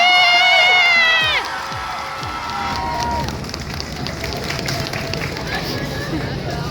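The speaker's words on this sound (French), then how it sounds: "j'aimerais un tonnerre d'applaudissements pour la maîtresse de cérémonie" A convention audience in Valence breaks into applause and cheers, with high whistles and shouts at first settling into a dense wash of clapping and crowd noise.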